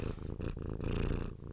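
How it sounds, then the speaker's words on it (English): A kitten purrs close to the mic, a steady rumbling purr broken into rhythmic pulses by its breaths, alone and fairly soft. "Purr"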